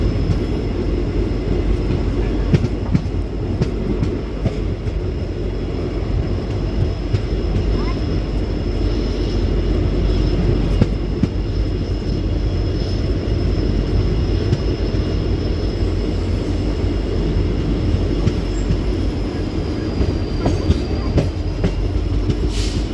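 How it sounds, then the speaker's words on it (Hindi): Intercity Express passenger train halting at Hindumalkot railway station, heard from inside as a steady low rumble of the carriage with faint rail squeal and background murmur, continuous and fairly loud throughout. "अपनी ट्रेन रुक चुकी है फ़िलहाल हिंदू मलकोट रेलवे स्टेशन पर।"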